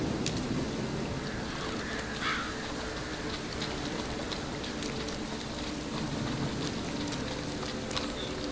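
Steady rain falling in the video game The Witcher 3, a constant patter of drops on surfaces with a few faint distant bird calls and no talk.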